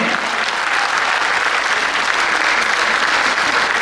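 A concert audience at a jubilee solo show gives loud, sustained, even applause for the singer, a dense roar of clapping with no break.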